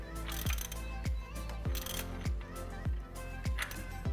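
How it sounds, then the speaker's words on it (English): A ratchet wrench with a 27mm socket tightens a Mishimoto oil cooler fitting on a 2007-2011 Jeep Wrangler JK, giving close, crisp ratcheting clicks in an even rhythm, about one stroke every half second. "Find a 27mm socket, get this nice and tight."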